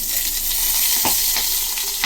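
Water and chopped onion go into a hot pan for Maggi noodles, giving a loud close hiss and sizzle with a few stirring scrapes that stops abruptly at the end.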